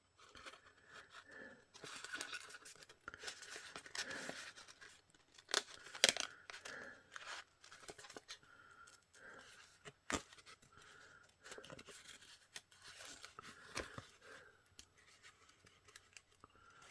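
Repeated snipping and crisp slicing of large scissors through paper for a collage, close and fairly loud, in irregular bursts with short pauses between cuts.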